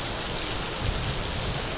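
Heavy rain pours down steadily outdoors at Gardens by the Bay in Singapore, a loud, dense, continuous hiss of downpour with no break.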